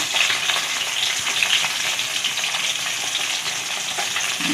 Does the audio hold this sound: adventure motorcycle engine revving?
no